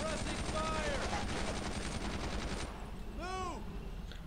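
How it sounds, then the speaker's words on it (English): Suppressing gunfire in the World War II squad shooter Brothers in Arms: Earned in Blood: a rapid, regular machine-gun rattle for a few seconds, moderately loud, followed by quieter game sounds. "I need suppressing fire."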